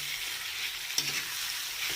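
Chicken pieces stirred in a hot pan, giving a steady broadband sizzle with a sharper scrape of the utensil about midway and another near the end.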